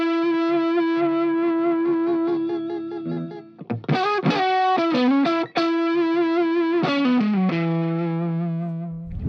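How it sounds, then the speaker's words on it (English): Electric guitar played through drive pedals and an amp in HeadRush Revalver 5, starting with a long sustained chord and then moving into quicker picked phrases and bends, clear and alone. "Here's what the tone should sound like when we just have the pedals and the amplifier on."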